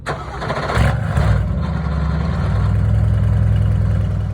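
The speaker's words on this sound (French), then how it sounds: "mettre le neutre, démarrer la voiture" A Mercedes AMG GT GT4 race car engine cranks and catches with a sharp starter burst, then settles into a loud, close, steady idle rumble.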